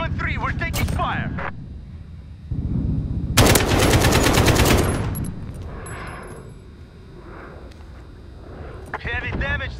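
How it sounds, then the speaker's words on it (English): Heavy machine-gun fire strikes a helicopter, a dense burst of rapid shots amid voices and rumbling noise, with talk before and after the gunfire. "We're taking fire."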